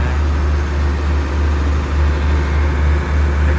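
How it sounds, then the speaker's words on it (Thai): The heavy diesel engine of an air-conditioned sleeper railcar on a Thai express train runs steadily nearby, a loud low throbbing hum with a slow pulsing rhythm. "ชอบเสียงเครื่องยนต์ของรถนอนแอร์มากๆเลยนะเสียงดังอึ้งนะ"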